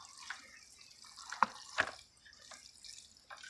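Water trickling slowly under low pressure to soak a potato planting container, heard as quiet, intermittent drips and small splashes with a soft background wash.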